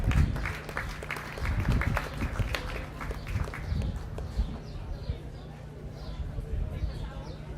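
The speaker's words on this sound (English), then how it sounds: "So let's give Caleb a round of applause" An audience applauds at a county fair beef show, a dense wash of clapping that is strongest at first and slowly thins. An announcer's voice carries over the crowd.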